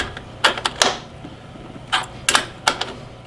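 A wrench tightens the positive terminal connection on an SLA battery for an industrial cart, producing several sharp metallic clicks and ratchet-like taps in small clusters, close and fairly loud.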